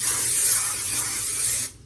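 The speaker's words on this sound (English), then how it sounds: "We're gonna spray it again." Hairspray hisses from an aerosol can onto hair in one continuous close burst lasting under two seconds, then cuts off abruptly.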